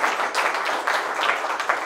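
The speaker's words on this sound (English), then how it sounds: "She's worth a round of applause." An audience at an event applauding: dense, continuous clapping from many hands, fairly loud and even throughout.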